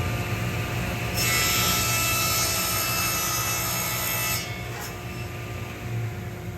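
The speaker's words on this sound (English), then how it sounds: "with the saw set to that same 60-degree angle that I used to make the other prism" Saw set to a 60-degree angle shaving a bevel off the corner of a wooden prism: a loud, steady cut runs for about three seconds over a constant machine hum, then the cutting sound drops away.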